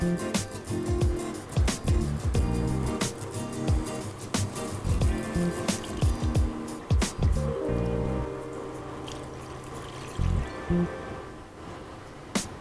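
Wet squelching and dripping as ground masala paste thinned with water goes into a pot of Chettinad mutton curry, with irregular splats and thuds at close range.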